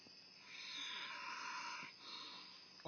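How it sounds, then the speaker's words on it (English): A man passed out drunk in a truck snores in one long, rasping breath that fades briefly and then resumes, close and fairly quiet, with no talking. "What's the story on that snoring"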